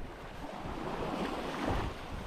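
Wind and waves on the coast at Halk, Denmark, a continuous close rush of breaking water and gusting air with wind buffeting the microphone.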